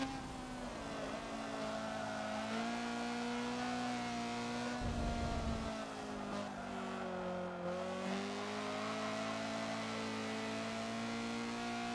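A Honda CRX race car in the Forza video game held in third gear around Suzuka West, its engine droning loudly and steadily with the pitch rising and falling through corners and a brief tire-scrub rush midway.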